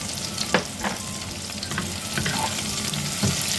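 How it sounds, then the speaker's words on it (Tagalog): Bay leaves and onion fry in a pan with a steady, close crackling sizzle throughout, broken by a few brief stirring scrapes. "Lagyan na natin ang ating laurel."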